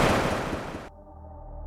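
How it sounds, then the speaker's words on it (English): A single gunshot in a night scene of a narrated story, a loud broadband blast that rings out and echoes for most of a second before dropping to a low, dull tail. "A gunshot echoed through the night."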